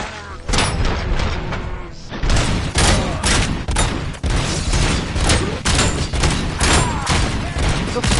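Rapid bursts of gunfire and heavy booms from the shooter game RoboCop: Rogue City, loud and nearly continuous across the whole stretch, with dense volleys and thudding impacts packed closely together.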